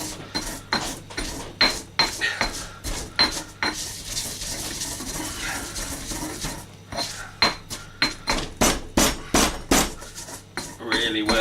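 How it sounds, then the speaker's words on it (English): Spices such as cumin and garlic pounded with salt, likely in a mortar and pestle, for chicken fajitas: a close series of sharp, hard knocks in an uneven rhythm, with a brief gap of scraping grind partway through. "I find pounding really gets the oils out of the spices, like the cumin"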